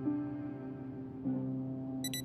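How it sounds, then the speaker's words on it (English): An alarm clock rings in the survival game Project Zomboid, a soft sustained electronic tone that restarts once midway, with brief higher beeps at the end; quiet and alone, no talking. "Turn the alarm off straight away."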